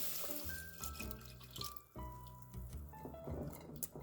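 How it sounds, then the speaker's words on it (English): Clam juice from canned clams pours into a pot of vegetables for chowder, a steady close liquid stream with dripping and splashing throughout, loud and alone with no talk. "I will pour in the clam juice"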